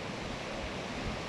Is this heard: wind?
yes